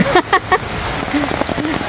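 Rain falls steadily in northern Luzon, a dense hiss of drops on surfaces running throughout while people talk over it.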